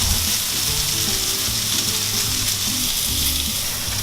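Beef and ginger meat patties frying in a pan, a loud, steady, close sizzle with faint stirring beneath, continuous throughout and without talk.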